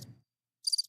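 Crickets chirping as a sound effect: a short, bright burst of rapid, pulsing chirps after a moment of silence, clear and fairly close.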